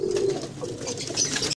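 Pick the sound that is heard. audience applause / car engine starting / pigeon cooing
pigeon cooing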